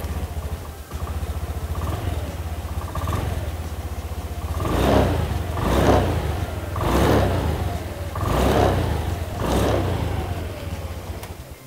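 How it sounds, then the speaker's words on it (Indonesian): A Honda Genio scooter's engine fires up and runs, its steady mid-pitched hum swelling in several repeated throttle blips before settling, close and fairly loud with no talking. "Kayak yang tadi kita dengar, suara mesinnya halus banget dan juga gampang dinyalainnya."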